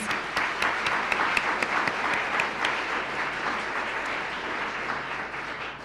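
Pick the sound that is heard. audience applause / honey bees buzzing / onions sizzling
audience applause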